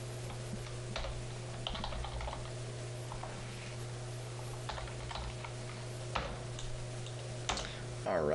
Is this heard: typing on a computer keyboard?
yes